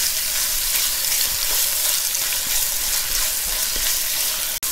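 Chicken sautéing in a hot pan gives a steady, loud, close sizzle and crackle that carries on unbroken, with a few faint stirring knocks and no voices.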